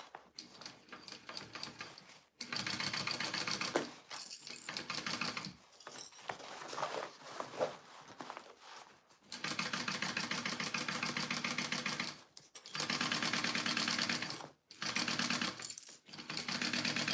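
A sewing machine stitches a Bow Fanny bag from a Zorelle pattern in long loud runs of rapid, steady needle chatter, broken by brief pauses between bursts.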